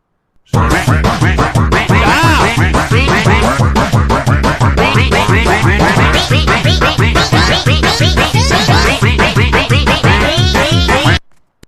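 A donation alert plays a loud burst of rapid duck quacks, dense and rhythmic, running continuously for about eleven seconds before cutting off abruptly.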